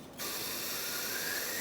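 Parts cleaner sprays from an aerosol can into the ports of a front brake caliper on a 2008-2012 Jeep Liberty, a sudden close, steady hiss that starts after a brief quiet moment and holds to the end.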